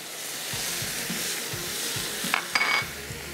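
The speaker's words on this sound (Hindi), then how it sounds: "चिकन भुन जाएगी हमारी" Chicken frying in a pan with lemon juice added as it is cooked down, a steady close sizzle broken by soft rhythmic scrapes of stirring and a few brief metallic clinks from the utensil.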